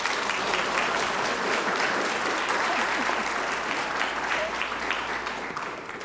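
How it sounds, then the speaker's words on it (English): Sustained applause from a large crowd, steady and dense clapping throughout, tapering slightly at the end. "Could give a round of applause."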